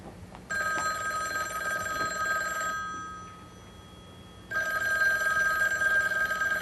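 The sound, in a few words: telephone ringing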